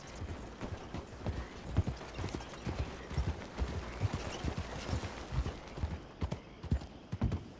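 Horse hoofbeats from riding in Red Dead Redemption 2, a steady clip-clop gallop with loud rhythmic thuds and an occasional whinny, running continuously and close throughout.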